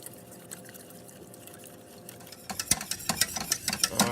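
Milk is poured a little at a time into a bechamel sauce for moussaka and whisked in, a soft pouring trickle followed by quick, close scraping clicks of the whisk against the pan.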